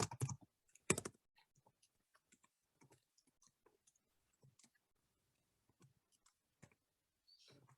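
Typing on a computer keyboard while listing product tags for an online craft shop: a loud burst of clacks at the start, then scattered, faint, irregular key taps with quiet gaps.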